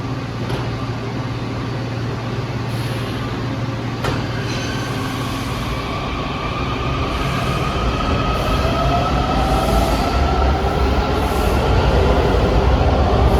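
An automatic DC Metro subway train runs loud and close with a steady rumbling drone, rising wheel squeal and whining tones as it travels, with no talk.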